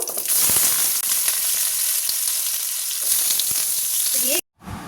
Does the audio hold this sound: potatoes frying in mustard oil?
yes